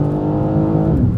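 A 2023 BMW M3 Competition G80 pulls hard under acceleration, its engine droning loud and close with a steady, rising harmonic tone throughout and no talking.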